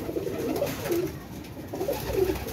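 Jonsra pigeons, a pure-bred flying breed, coo softly in repeated low throaty phrases against a faint background murmur, two cooing bursts close together.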